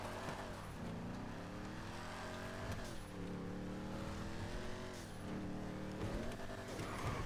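A Dodge Charger in GTA 5 with a level 4 engine drives along, its steady engine drone rising and falling through gear changes under continuous game background sound.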